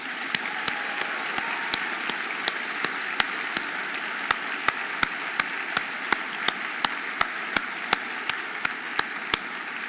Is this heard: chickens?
no